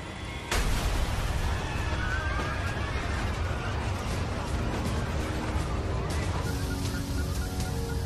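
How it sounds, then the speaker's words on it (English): A sudden loud bang from an explosion aboard a climbing plane at 23,000 feet, followed by rapid decompression: a continuous heavy roar and rushing noise fills the rest of the clip. "there was this loud explosion, one quick bang"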